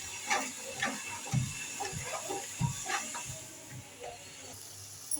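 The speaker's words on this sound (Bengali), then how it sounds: "আর মশলার জলটা আমি এখন দিয়ে দিচ্ছি, নাহলে মশলাটা তলায় পুড়ে যাবে।" Spice water goes into a pan of frying spices for a rui fish mustard curry, producing a soft sizzling hiss with scattered small pops and light tapping, fairly quiet and close.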